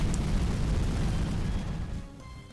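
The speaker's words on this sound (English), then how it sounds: "He exploded." A Pokémon uses Explosion in the game Pokémon Star Sapphire: a loud, rumbling blast with a dense low roar that holds for about two seconds before tapering off.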